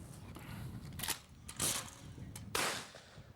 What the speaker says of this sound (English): Good shooting, Will.